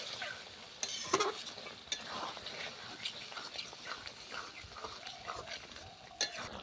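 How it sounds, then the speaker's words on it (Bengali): Mutton pieces frying in a pan as they are stirred, a soft steady sizzle under intermittent scraping and clacking strokes of a spoon, fairly quiet and close, with no voices. "দিয়ে এই রকম করে 10-15 মিনিট আমি নাড়তে থাকবো, দিয়ে ভালো করে কষিয়ে নেব মটনটা।"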